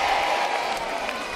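Audience at a family show, Pirate Island 2008, applauding and cheering in a dense, loud roar of clapping that fills the brief moment without letup.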